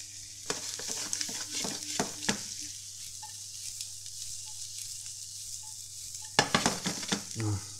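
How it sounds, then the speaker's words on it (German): Mushrooms and diced potatoes fry in butter over medium heat, a soft continuous sizzle broken by repeated scraping and stirring strokes, with clusters of stirring near the start and end. "bei mittlerer Hitze lassen wir das mal so 1-2 Minuten braten, dass auch die Kartoffeln ein bisschen Farbe kriegen"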